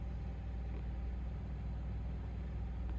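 A parked car's engine idling, a faint, continuous low hum with no talk.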